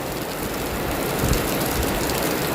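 Steady rain falling outdoors, a dense continuous hiss of drops with no breaks or voices, fairly loud and close throughout.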